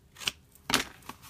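Scissors trim paper for a Christmas gift box with three quick, faint snips, two close together and a softer one after.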